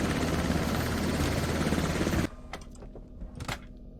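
Loud, steady, dense rotor and engine drone of a helicopter in a video game runs for about two seconds, then cuts off abruptly and leaves quieter clicks and taps.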